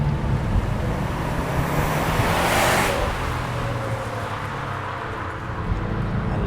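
A Subaru WRX STi, four-wheel drive, accelerating hard with a steady, loud engine and road roar, heard from inside with wind noise and a brief swell of rushing air midway.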